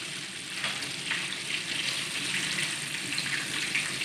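Spicy fried chicken sizzles steadily in hot oil, a dense, even crackle heard up close with no talking.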